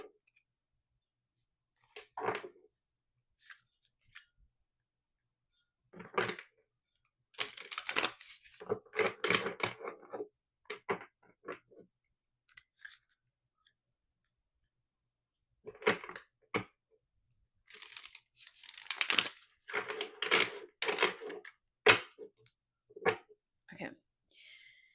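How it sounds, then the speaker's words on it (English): Intermittent bursts of tarot cards being shuffled and riffled, crisp flicking and shuffling sounds in clusters separated by quiet pauses, close up. "While I shuffle, you can just focus in on this connection"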